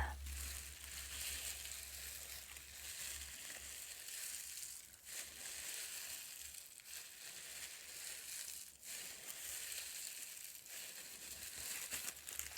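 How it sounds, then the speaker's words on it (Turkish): Plastic bubble wrap crinkles and crunches steadily as it is crumpled by hand, a close, continuous crackling with a low hum underneath. "Pat pat naylonun elde buruşturulması"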